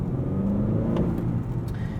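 A 2019 Honda Accord Sport's 2.0-liter turbo four accelerates at night through a six-speed manual, giving a steady low engine drone and road rumble heard from inside the cabin, with a faint rising pitch and no voices.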